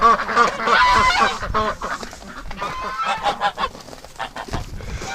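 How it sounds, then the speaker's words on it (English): A flock of geese honking loudly and continuously, many overlapping calls close by, with a few quieter cackles trailing off toward the end. "Oh, the geese."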